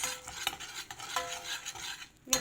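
Dried mint and chili flakes sizzle in hot oil in a pan for a soup topping, a soft broadband hiss broken by light spoon-stirring scrapes and clinks, close and fairly quiet.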